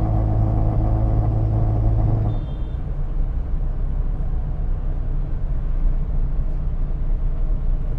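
Car driving on a highway among auto-rickshaws and CNG vehicles, a loud close engine and road rumble that drops in pitch after a couple of seconds then holds steady, with no voices over it.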